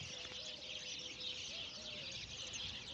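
Faint bird chirps and calls repeat against a constant hiss of outdoor ambience, distant and soft throughout.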